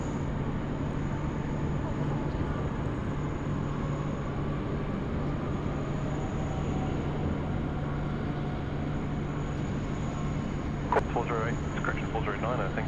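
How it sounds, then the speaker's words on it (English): An Etihad airliner touches down on runway 16 right at Sydney Airport, heard as a steady distant roar of jet engines lasting throughout, with a radio voice talking over it near the end. "Etihad just dropping it in there on runway 16 right"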